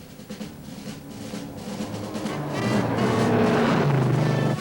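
A car with a stroked 401 engine accelerating hard on a road test, the engine roar rising steadily in pitch and loudness as it pulls away, close and continuous with no talking.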